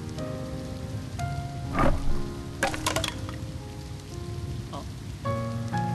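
Steady rain patters on surfaces inside a video game, a dense continuous wash with a few brief louder drops and splashes, with sustained musical tones from the game soundtrack running underneath.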